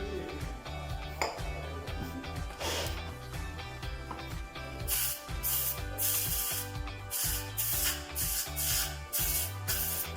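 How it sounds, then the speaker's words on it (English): Bursts of hissing aerosol degreaser spray come in short repeated pulses, close up on greased bicycle bearings, along with faint metallic clinks and rubbing in the background. "Now I'm going to spray it with some degreaser to soften the grease"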